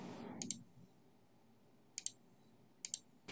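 Computer mouse clicking during photo editing on a computer: three crisp double clicks spaced apart over a quiet room hum, with a brief soft rustle at the start.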